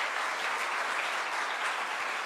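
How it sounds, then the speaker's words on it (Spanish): Sustained applause from a symposium audience at a university event, dense and even clapping that fills the whole moment with no talk over it. "Le damos un aplauso a los cuatro ponentes"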